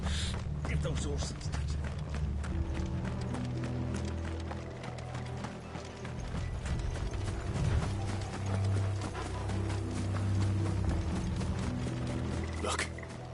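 Horses' hooves clip-clop at a steady gallop in the video game Final Fantasy XVI, with creaking, rattling mechanisms layered beneath them. The sound stays loud and continuous under a dense game soundscape.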